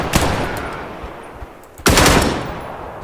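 Gunfire in the indie shooter Scavland: a quick burst of shots at the start, a few scattered distant pops, then a loud sustained volley of automatic fire that slowly fades.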